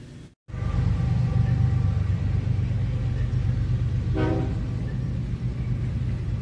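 A train rumbles steadily nearby, loud and continuous, with a brief horn blast sounding midway through the passing.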